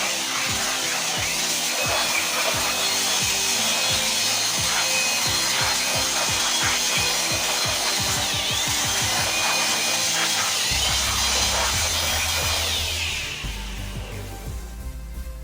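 A loud, continuous air blower roars with a rough, rattling edge while blowing dust from an Epson L3110 printer, then cuts off near the end, leaving a quieter hum.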